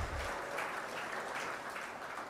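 Crowd applause at an annual hall induction ceremony, a soft steady wash of clapping from a distant audience, faint and even throughout.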